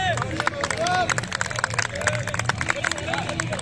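Crowd clapping outdoors at a group running event in Sanaur, Patiala, a steady stream of hand claps mixed with hubbub and scattered cheering, with people talking and calling out over it.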